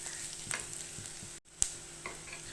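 Onions sauté in a pan with a soft, quiet sizzle and occasional light scrapes of stirring, cut briefly by a moment of near silence and a sharper knock.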